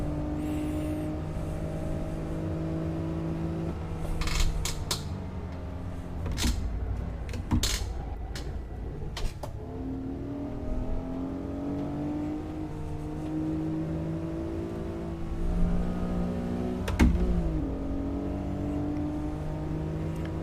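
Car engine running through a lap in the racing game Assetto Corsa, a steady drone that rises and falls with gear shifts and revving, with sharp transient clicks and pops at intervals, continuous and fairly loud throughout.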